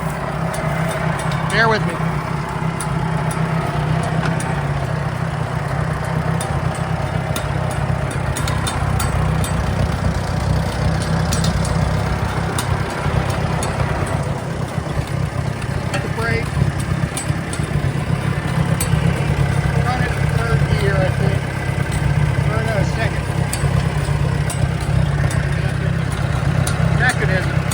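A Case 400 tractor idles with its PTO engaged, giving a steady low rumbling drone that runs unbroken for the whole stretch while someone talks close by over it.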